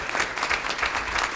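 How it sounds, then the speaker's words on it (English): A board of education meeting audience breaks into brief, dense applause, a steady wash of many hands clapping together without pauses. "And a round of applause for her."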